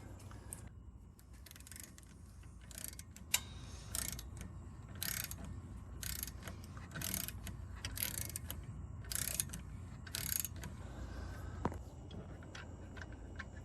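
A wrench or ratchet clicks in repeated short bursts while two brake caliper bolts are broken loose during a brake pad replacement, with a steady low hum of shop background beneath it.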